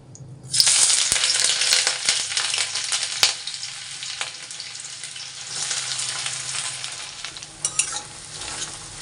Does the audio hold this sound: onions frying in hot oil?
yes